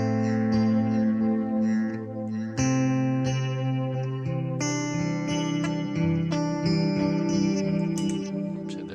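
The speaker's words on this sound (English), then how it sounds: "Oops, had the echo wreck on that whole time." Electric guitar played through a ZOIA modular pedal patch with the echo effect engaged, sustained chords and notes layered with distorted, repeating echoes at steady volume throughout.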